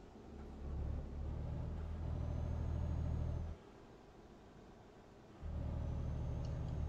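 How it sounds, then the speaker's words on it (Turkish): A truck hauling excavation fill in Euro Truck Simulator 2 rumbles with a low, heavy engine drone that cuts back to a quiet idle for about two seconds, then swells up again. "Kamyon da iyi gidiyor be."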